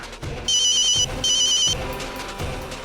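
A telephone rings in two short electronic bursts over background music in a domestic scene.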